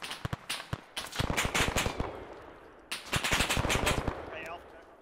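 Gunfire in the military shooter Arma 3: sharp close shots and rapid automatic bursts in two clusters, loud and crackling, with voices talking over the firefight.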